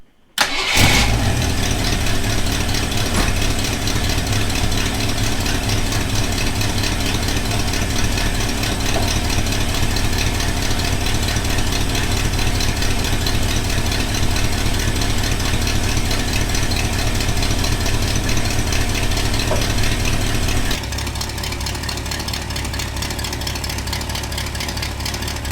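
An AMC 360 V8 in a Jeep cranks briefly and fires, then settles into a loud, steady idle just after a mechanical fuel pump install, holding a constant rumble with a slight drop in level near the end.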